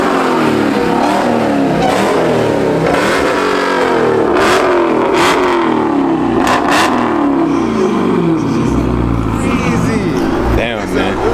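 Loud, continuous revving from a modified car engine, surging and dropping repeatedly throughout, with crowd chatter faintly audible beneath.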